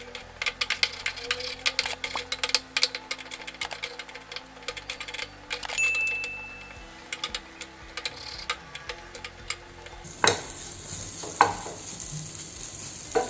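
Egg mixed with masala stirred in a pan for Maggi noodles over a low flame, faint sizzling under repeated light ticks and scrapes of a spoon, with a sharper clatter near the end.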